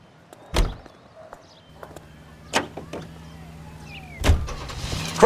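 Car in the video game L.A. Noire, with a low steady engine hum beneath a few sharp door-like thumps and clunks, moderately loud, with no talk.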